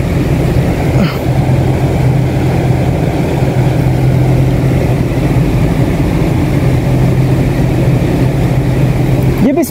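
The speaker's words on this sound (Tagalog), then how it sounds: "so umaandar yung compressor" A Basic brand inverter air conditioner's compressor, fitted with an error 34 fault, runs with a steady low hum and mechanical drone for the whole stretch, loud and continuous, ending in a brief clatter.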